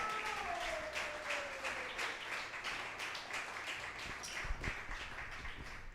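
Congregation applauding in a Spanish-language church service after a prayer, a soft, steady patter of many hands clapping, fairly distant and faint, with a brief sliding tone near the start.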